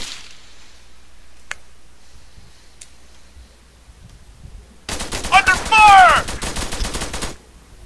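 Gunfire erupts during close-quarters killhouse training, a loud rapid burst of automatic shots after a quiet stretch with a few isolated clicks, with brief shouting mixed into the volley.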